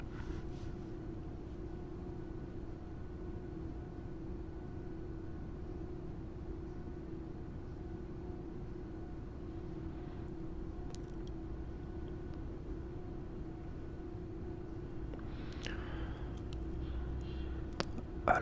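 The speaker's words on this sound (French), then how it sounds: "Encore une fois, désolé pour les voitures qui passent" A steady low rumble of cars passing by outside a room, a continuous faint hum of distant road traffic with a brief louder swell near the end.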